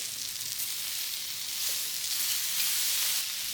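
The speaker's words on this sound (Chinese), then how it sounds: "手冻下锅之后，你就转到大火一路炒" Squid and okra stir-fry over high heat on a hot iron plate, giving a loud, steady hiss of sizzling oil that swells slightly as the food is tossed, with no voices.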